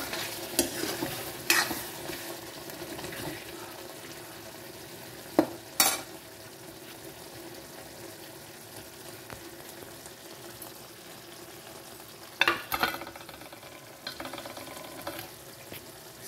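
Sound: stirring garam masala into sabzi in a pan

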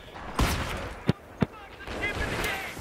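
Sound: mortar shot in the video game Battlefield 3

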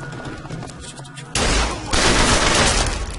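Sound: gunfire in video game Bioshock Infinite

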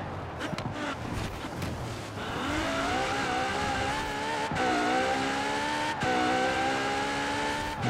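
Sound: car racing through Edinburgh in Forza Horizon 4 video game

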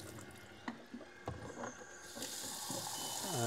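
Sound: water flowing into AGO film processor

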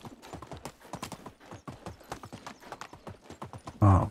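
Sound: donkey hooves galloping in Medieval Dynasty video game

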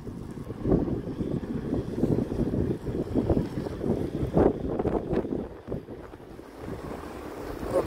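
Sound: wind blowing into the microphone outdoors at night

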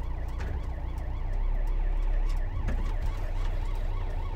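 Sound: ambulance siren

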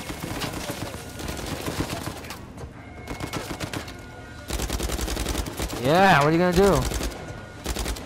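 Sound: gunshots in the video game Uncharted 4

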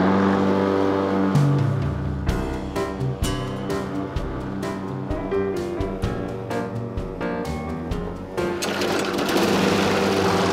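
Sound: lawn mower mowing a garden

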